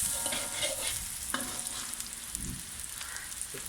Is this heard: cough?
no